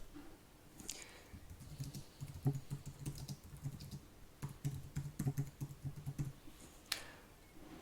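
Quiet, steady typing on a computer keyboard, a rapid patter of soft key clicks in uneven bursts, close by with no talking.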